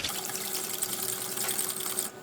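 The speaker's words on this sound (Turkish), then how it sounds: "Bir çırpıcı yardımıyla çırpalım." A whisk beats yeast, sugar and warm milk in a bowl, a fast continuous clattering rattle close by that stops abruptly near the end, with no talk.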